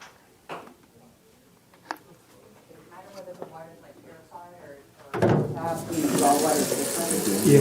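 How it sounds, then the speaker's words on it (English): A person talks quietly, then a tap opens and water gushes loudly into a pot, filling it steadily. "I need 2 quarts of water, so I'll start with that."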